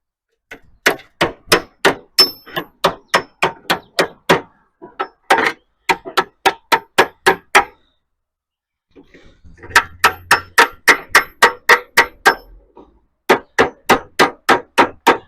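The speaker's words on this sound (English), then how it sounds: "Get my hammer and my dolly." A hammer strikes a dolly against the steel door of a 1960 Chevy Biscayne in rapid bursts of sharp metallic clangs, loud and close, with a short pause midway before the ringing blows resume.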